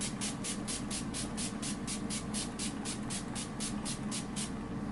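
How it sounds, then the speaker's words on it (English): Urban Decay All Nighter makeup setting spray hisses out in a rapid run of about fifteen even, close pumps, heard alone. "I'm gonna go in and set my face right now with the Urban Decay All Nighter Makeup Setting Spray,"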